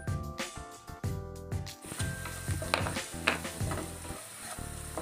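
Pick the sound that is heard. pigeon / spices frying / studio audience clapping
spices frying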